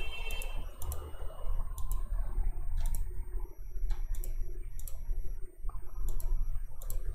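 Sharp clicking sounds in bursts of two or three from a computer mouse, over a low background rumble.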